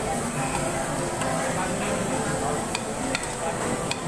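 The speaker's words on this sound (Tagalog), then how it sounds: "Gisa-gisa tayo." Meat sautéing in a pan at a Korean samgyeopsal grill restaurant gives a steady, dense sizzle with a few faint utensil clicks, set against background chatter and restaurant noise.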